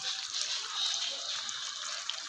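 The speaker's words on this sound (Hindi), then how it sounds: "थोड़ा सा इसमें पानी शामिल करके ये भी इसमें ऐड कर देंगे" Water is poured from a small container into chicken karahi simmering in a pan, a steady bright gushing splash lasting a couple of seconds with no talk.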